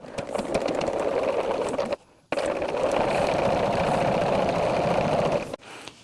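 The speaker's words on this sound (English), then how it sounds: "we are going to sew that at 1/4 of an inch" Sewing machine stitching pieces of quilt fabric at a quarter-inch seam, a steady fast whirring hum close by that stops briefly and then resumes.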